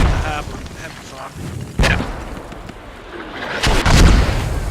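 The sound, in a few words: mortar fire in a video game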